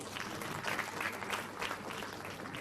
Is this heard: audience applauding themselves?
yes